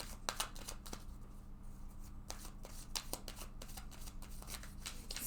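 Tarot cards being shuffled during a love reading, a steady run of soft papery riffles and flicks repeating for several seconds, close and moderately quiet with no talking.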